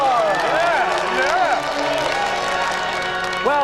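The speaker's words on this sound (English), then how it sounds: "let's give a round of applause for today's special guest, Mr. Motivator" Studio audience applause and cheering on a TV games show set, a steady wash of clapping running beneath a presenter's voice for the whole stretch.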